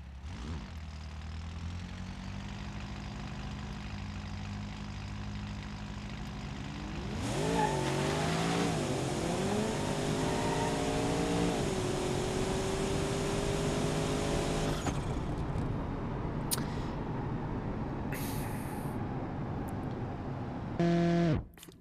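A car engine in BeamNG.drive, fitted with a torque converter and turbos, idles steadily, then revs up loud and strained with rising, wavering pitch for several seconds before settling back to a rougher, busy idle, ending in a short burst.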